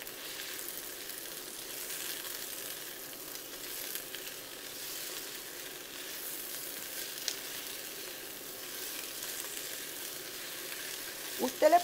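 Cabbage and beef frying in a pan for chop suey, a soft continuous sizzle with faint crackles and a couple of louder clatters at the end, no talk over it.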